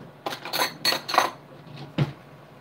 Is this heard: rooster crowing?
no